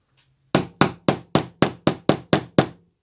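A light hammer taps a glued part of a Commodore 128D disk drive mechanism nine times in an even, quick rhythm, each tap a sharp close knock, after a faint brief scrape.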